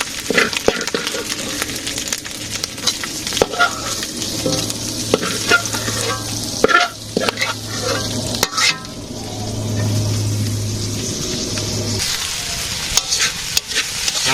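Dried fish, potatoes and aubergine fry in a pan in a village kitchen, a loud continuous sizzle with frequent scraping stirs and clinks of a utensil against the pan, close up.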